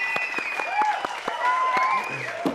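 A television studio audience on a Hindi entertainment show applauds a young cricketer, clapping continuously under raised voices and tonal cheering, fairly loud and close.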